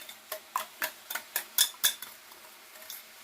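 A metal spoon clinks rhythmically against a pan as chili powder is stirred into an egg and capsicum curry, about a dozen quick taps close up over a faint background hiss, with no talking.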